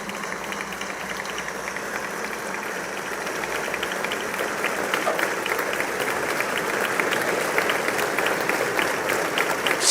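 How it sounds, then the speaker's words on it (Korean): Members of the US Congress give a standing ovation as the South Korean president enters the chamber, a dense, continuous wash of clapping from a large crowd that grows slightly louder toward the end. "기립박수를 치고 있죠."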